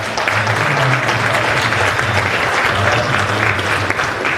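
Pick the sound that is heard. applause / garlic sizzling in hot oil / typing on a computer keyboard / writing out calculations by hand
applause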